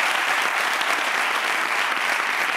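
Dense, even applause from a late-night comedy show's studio audience, greeting guest Jorge Ponce; loud, sustained clapping fills the room without any talking over it.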